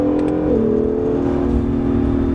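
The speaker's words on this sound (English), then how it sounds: "You don't really feel the turbo spool up. You hear them spool up." A modified blue pearl 2017 Acura NSX with turbos spooling up, a steady close engine drone with a rising whine that steps up in pitch over a continuous road roar.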